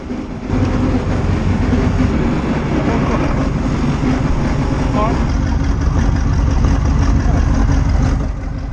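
Aboard an S-tank 401 armored vehicle on the move, a loud, continuous heavy engine drone and low rumble mixed with rattling and clanking carries on steadily throughout, close and dominant.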